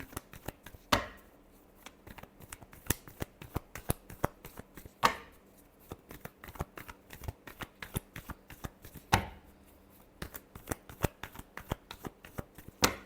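Tarot cards being shuffled by hand, a rapid run of crisp riffling flicks broken into three bursts, close and fairly quiet, with no talk.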